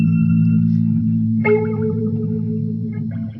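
Closing phrase of a music sample with steady low sustained tones, a sharp bright note entering midway and ringing out, thick with effects, reverb and distortion.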